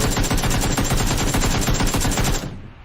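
Rapid automatic gunfire from PUBG, played on Xbox One or PS4, a loud continuous burst of closely spaced shots that stops abruptly near the end, with no talk.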